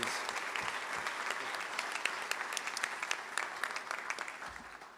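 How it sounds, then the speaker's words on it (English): Sustained applause fills a ceremony hall for the board of trustees of a college at a presidential inauguration celebration, a dense steady clapping from a large audience that carries on throughout before tapering slightly at the end. "can we have a round of applause for the Erie Board of Trustees?"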